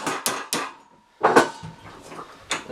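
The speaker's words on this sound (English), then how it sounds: "simply use a hammer and just kind of tap it over" A hammer taps a metal seat part for a Jeep CJ7 Renegade seat repair, held in a vise, with sharp ringing metallic strikes in an uneven rhythm, several quick hits, a pause, then a cluster of louder blows.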